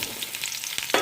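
Mango pieces drop into hot oil with five-spice, a chili and a bay leaf and are stirred, giving a close, bright sizzle with scraping stirs and a sharper crackle burst at the end.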